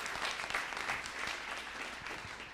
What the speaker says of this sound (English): So big round of applause for Naomi